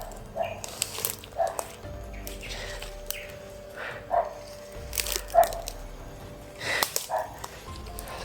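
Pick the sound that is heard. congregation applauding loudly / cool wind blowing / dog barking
dog barking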